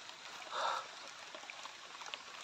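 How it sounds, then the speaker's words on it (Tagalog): Steady rain hisses throughout at moderate level, with scattered drops and a brief louder splash burst near the start. "Malakas na yung ulan."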